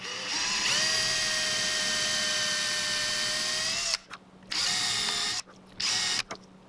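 A power drill with a 10mm bit bores into a lure body, one long steady whine followed by two shorter bursts with brief pauses between them, close and loud.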